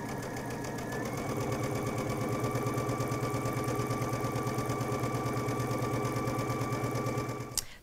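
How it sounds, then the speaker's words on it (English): A Brother Innov-is XV sewing machine runs steadily while stitching a drawstring channel in fabric, a close, even, fast mechanical whir with rapid needle rhythm that stops abruptly near the end. "I'm just sewing the lines for the channel that we're going to feed the cord through for the drawstring"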